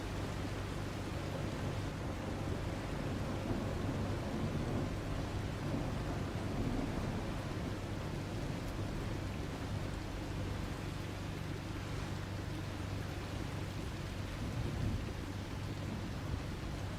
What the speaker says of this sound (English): I think that was a whole lot of a storm there.